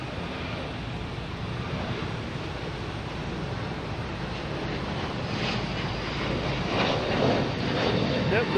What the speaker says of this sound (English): We have a Delta taking off,